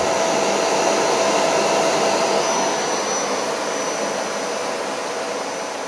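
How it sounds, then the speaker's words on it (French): A vacuum cleaner drones steadily and loudly with a broad whooshing roar and a faint high whine, easing slightly quieter toward the end. "l'aspirateur aspirait"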